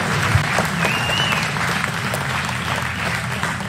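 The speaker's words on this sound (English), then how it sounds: "give him a round of applause" Audience applause at a STOL aviation competition awards ceremony, a steady, fairly loud round of clapping from a crowd, heard close and without speech throughout.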